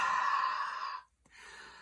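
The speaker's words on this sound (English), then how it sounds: "you're just going to want to give it a few huffs with your breath to reactivate the ink" Breath huffed onto a rubber ink stamp to reactivate the ink: one long, airy exhale close to the microphone, a brief gap, then a second shorter, softer huff.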